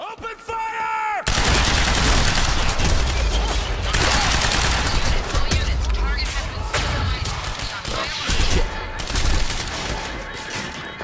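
A garage firefight from Quantum Break breaks out in sustained, dense gunfire, rapid automatic bursts and single shots overlapping loudly for about ten seconds after a brief quieter opening, with voices shouting amid the shooting.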